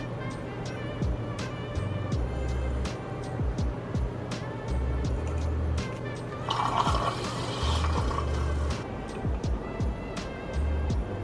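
Milk poured into a glass or cup in a home kitchen, a gurgling, filling splash near the middle, with small clicks and background household noise around it.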